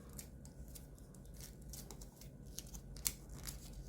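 Paper folded for an origami ninja spinning top, soft close crinkling and rubbing with a few crisp creasing snaps, quiet and without speech.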